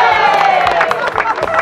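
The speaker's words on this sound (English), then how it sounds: "the huge crowd of supporters at the grand opening" A large crowd of supporters at a university's downtown grand opening and ribbon cutting cheers and whoops loudly, with scattered shouts and some clapping in a dense, continuous roar.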